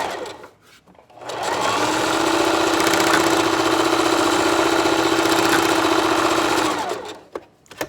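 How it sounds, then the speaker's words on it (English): A sewing machine straight stitching a bikini seam runs steadily for several seconds with a fast even whir, starting up and winding down near the end, close and loud with no talk. "And then we're gonna straight stitch directly over it."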